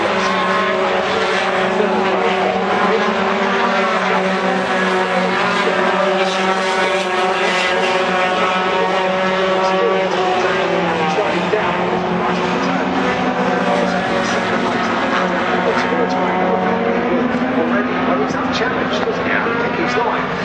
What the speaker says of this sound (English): Clearly that truck is beautifully set up, and he's driving well as well.